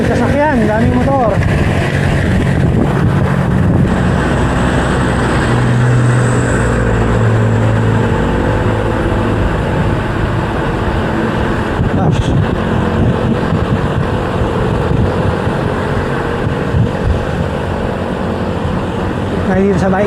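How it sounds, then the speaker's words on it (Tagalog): Road traffic on a C5 extension flyover near SM City Sucat, many cars and motorcycles passing in a continuous roar heard from a moving motorcycle, with heavy wind buffeting throughout and a rider talking over it. "Daming sasakyan, daming motor."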